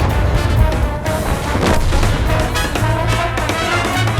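Tank cannons firing in a tank video game, with several heavy booms and rumbling blasts in quick succession over a dense, noisy battle backdrop.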